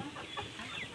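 Golden chickens cluck faintly on a poultry farm, a brief soft burst of clucks over steady fan-like background noise.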